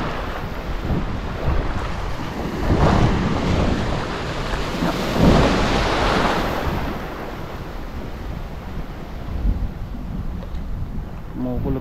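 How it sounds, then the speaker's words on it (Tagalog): Thunder rumbling at sea heard from a small fishing boat, low broad rolls swelling and fading under steady wind buffeting and engine and water noise. "Kumukulog talaga dun no?"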